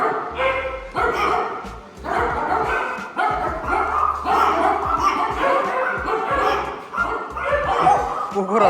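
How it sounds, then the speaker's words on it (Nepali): Several dogs bark repeatedly in short bursts near Yambaru in Okinawa, some yips and whimpers mixed in, while people talk and laugh nearby. "कुकुरहरू कराएर हैरान गरे यार"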